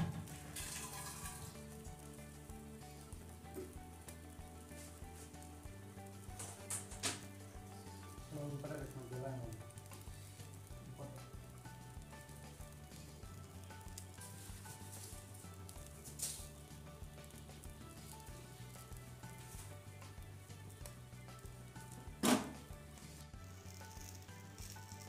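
Tandoori chicken sizzles in a pan on a gas stove, a steady low frying hiss that runs throughout with a few brief louder clatters, no talking over it.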